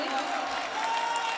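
Audience applause at a Hindi-Urdu mushaira poetry gathering, a dense steady wash of clapping from a crowd, sustained and fairly loud throughout with no gaps.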